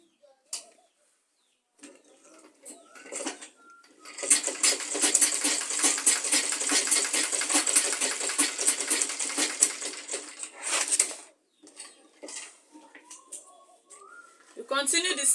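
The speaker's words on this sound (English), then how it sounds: "Then you continue sewing." A sewing machine stitching a fabric tote bag, a rapid, steady mechanical whir running for several seconds in the middle, with short bursts and handling clicks before and after, close and clear.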